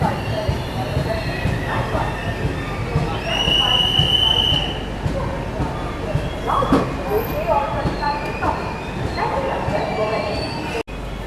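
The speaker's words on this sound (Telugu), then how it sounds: "సో ఇప్పుడు మనం అయితే అనకాపల్లి రైల్వే స్టేషన్ నుండి అయితే బయలుదేరిపోతున్నాము" A train pulls out of Anakapalli railway station with a steady rumble and wheel noise, and a long metallic squeal rings out near the start.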